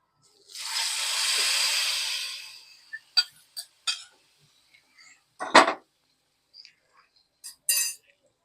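Hot mustard-seed tempering is poured into Kerala buttermilk curry, giving a loud sizzling hiss of about a second and a half, followed by scattered sharp clinks of a metal utensil against the vessel.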